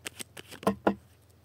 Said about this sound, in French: on va tirer 5 cartes